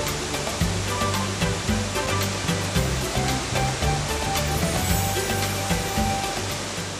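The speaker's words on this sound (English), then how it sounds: "a curtain of water drops in a series of tears" Tinuy-an Falls in Surigao del Sur roars as a broad curtain of water crashes down, a loud, steady, dense rush with a low rumble underneath, continuous and unbroken throughout with no voices.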